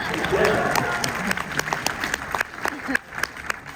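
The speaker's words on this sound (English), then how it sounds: "Smattering of applause. Tepid applause. Mercy applause." A smattering of tepid applause from the audience at a film Q&A, scattered individual claps rising over a murmur of crowd noise and talk, thinning out toward the end.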